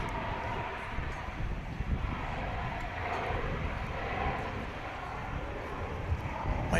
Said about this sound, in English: so it's a NetJets plane, so it's not going very far. 190, 4000, clear for takeoff.